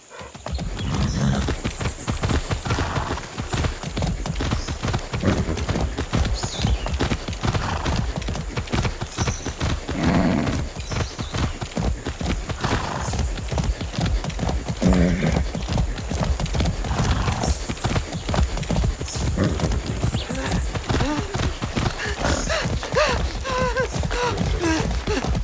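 Horse hooves clip-clop steadily and close in Far Cry 6, a rapid, continuous rhythm of hoof strikes on the ground running throughout, with occasional whinnies and a dog's faint barks in the mix.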